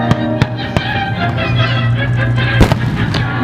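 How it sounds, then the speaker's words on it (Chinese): A National Day fireworks display at the Changbin Industrial Zone, set to music: sharp shell bursts strike at irregular intervals over a steady, loud musical backing. "随着音乐的节奏，你会发现到烟火释放的速度，以及它的花纹"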